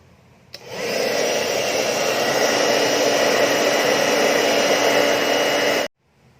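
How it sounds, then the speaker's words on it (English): A hair dryer switches on with a click, blows with a loud steady whirring roar for about five seconds while heating pleather on a Canon 514XL-S camera, then cuts off abruptly. "Next, you got to heat away with a hairdryer this pleather."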